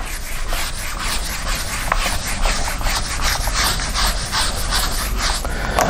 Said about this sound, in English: just going to rub this out